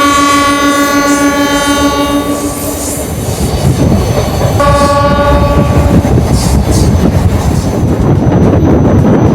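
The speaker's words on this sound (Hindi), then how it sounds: "फाइनली 1 मिनट होल्ड के बाद अपनी ट्रेन का डिपार्चर हो चुका छत्तीसगढ़ रेलवे स्टेशन से" A passenger train departs a railway station on the Howrah–New Delhi main line, loud and close, with a long sustained horn blast, a second shorter horn, and heavy rolling wheel and carriage rumble building beneath.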